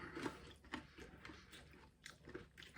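Someone bites and chews a hard, crunchy crust of an American hot flatbread pizza, with close, quiet rhythmic crunches repeating about every half second.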